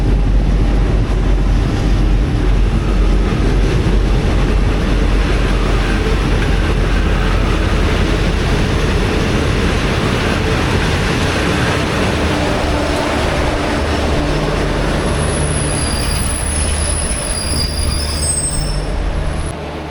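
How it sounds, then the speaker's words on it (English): A loud V/Line passenger train rumbles close by arriving at Swan Hill station, with grinding rail noise, and high-pitched wheel squeals rise near the end as it slows. "Here comes our train now."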